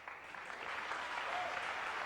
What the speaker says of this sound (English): they were applauding the combination and the fact that the other ball went in as well